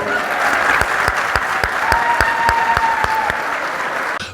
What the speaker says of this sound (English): another huge round of applause for Christina.